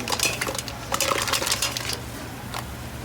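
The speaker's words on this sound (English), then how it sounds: "I'm going to add my cleaned mussels right into." Cleaned mussels tumble into a pot at a rolling simmer, rattling and clinking against the metal in a quick burst of hard shell knocks that fades into a softer bubbling, close by with no speech.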